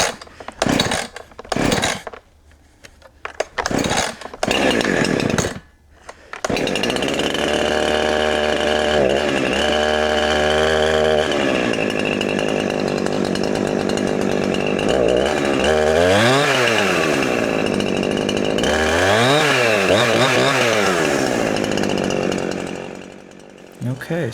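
A repaired Husqvarna chainsaw being pull-started and revved, first a few short sputters, then a loud sustained engine whine with repeated rising and falling throttle revs before it idles down.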